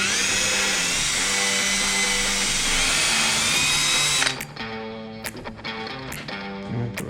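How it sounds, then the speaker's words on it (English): A power drill bores a hole out to about 9/16 inch, running loud and steady for around four seconds before spinning down, followed by a few short bursts and bumps. "Basically going to wind up drilling this hole out to about a 9/16."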